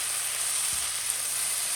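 Vegetables for a vegetarian omelet sizzling in a pan, a steady loud hiss close by with a couple of soft stirring knocks and no talking.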